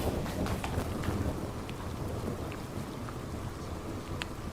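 Steady heavy rain pours throughout, with low rumbling thunder underneath and a few scattered brighter drips, loud and continuous with no speech.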